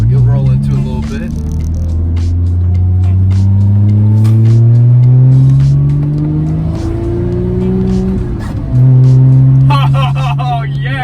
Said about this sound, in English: This exhaust makes such a big difference.